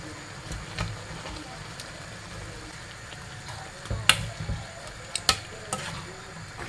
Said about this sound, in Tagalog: Lagay muna natin ang ating isda. Yan. Ang ating pampano na isda.